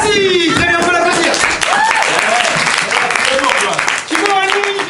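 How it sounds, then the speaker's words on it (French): Audience at an improv theatre festival show clapping in a sustained burst, with a performer's voice talking over the applause throughout. "Très bien, on peut l'applaudir."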